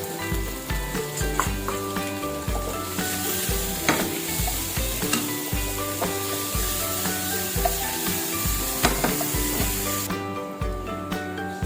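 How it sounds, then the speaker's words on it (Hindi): Paneer cubes shallow-fried in a pan sizzle steadily while OTM masala is stirred in, with a spoon scraping and rubbing rhythmically against the metal throughout, close and loud, without speech. "हमारे ये पनीर थोड़े शैलो फ्राई हो गए हैं, तो मैं ये जो हमने OTM मसाला बनाया है वो मैं ऐसे 2 स्पून भर के डाल दूंगी"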